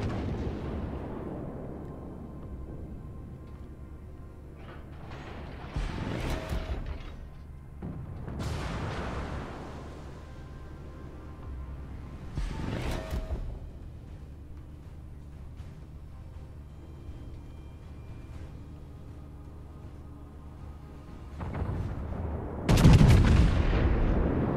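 Naval artillery shells fired from the battleship Montana in World of Warships, four or five deep booming salvos spaced several seconds apart, loud and close with rumbling tails, the last one heaviest.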